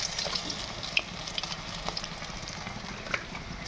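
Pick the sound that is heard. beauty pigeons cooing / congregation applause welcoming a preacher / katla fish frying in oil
katla fish frying in oil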